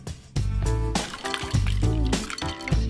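Fennel slices being drained from ice water, with liquid splashing and pouring in short bursts and wet dripping, close and fairly loud.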